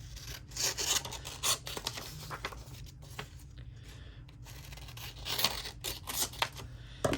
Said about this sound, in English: so I think I'm going to cut this border off also. And let's cut them all off, why not?